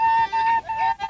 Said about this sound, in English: He blows his pipe.